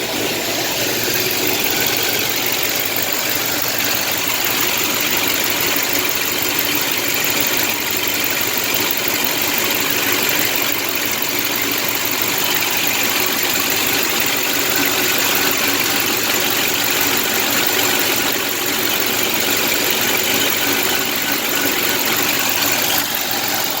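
A car engine idles steadily and continuously, a loud, even rumble with a bright hissing edge and no talking.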